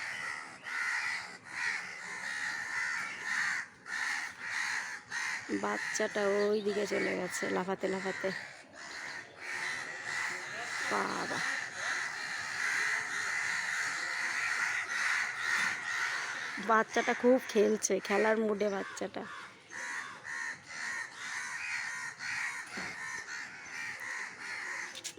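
Many crows caw noisily throughout while a person talks over them in two stretches; the harsh calls continue steadily between the speech.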